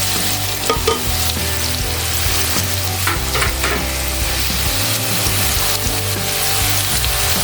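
Slit green chilies fry in hot oil in a pan, a loud continuous sizzle with crackling pops and occasional stirring scrapes, steady throughout.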